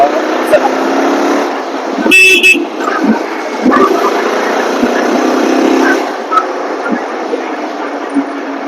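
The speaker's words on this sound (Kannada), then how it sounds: "ಹಾರ್ನ್ ಕೂಡ ಲೌಡ್ ಆಗಿದೆ" One short, loud honk from a Yezdi Adventure 350 motorcycle horn cuts through a steady engine rumble and traffic noise.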